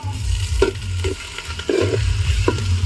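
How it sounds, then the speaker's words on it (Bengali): Onions frying in oil with a little sugar in a wok for chili chicken, a steady close sizzle with repeated scraping strokes as they are stirred. "একটু নাড়াচাড়া করলাম"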